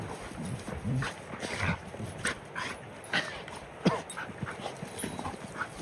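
Two dogs tussle and play, with soft whimpers, scuffling and panting close by at moderate level, no speech heard.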